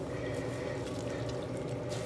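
Water drips and trickles steadily from wet wool being gently squeezed after hand-washing, a close, continuous patter of liquid falling back into a basin with no talking.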